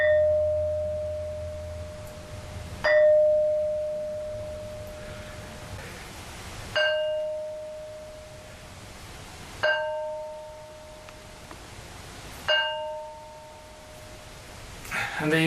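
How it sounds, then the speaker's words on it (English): A resonant stone struck repeatedly, about five sharp strikes spaced a few seconds apart, each ringing out with a clear bell-like tone that decays slowly through a long reverberating tail. "this thing really rings like a bell, and it reverberates for quite a long time."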